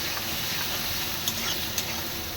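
Finely chopped onion hits hot oil for an egg malai curry, a dense continuous sizzle with a couple of faint stirring clicks.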